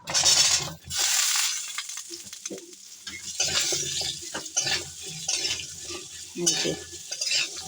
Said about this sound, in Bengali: আমি এবার যে সবজিগুলো ভাজিনি সেই সবজিগুলো আগে দিয়ে দেব